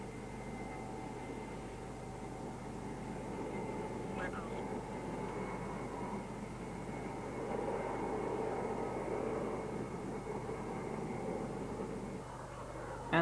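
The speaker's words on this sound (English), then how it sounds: "this is the Ilyushin 38, or May as it's known under the NATO coding system" An Ilyushin 38 (May) maritime patrol aircraft at the 1996 Royal International Air Tattoo in Fairford, UK, gives a continuous distant droning roar that swells slightly midway and holds steady throughout.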